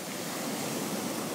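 Ocean waves heard while kayaking at sea: a continuous broad rushing wash of surf, steady and fairly loud, with no talking over it.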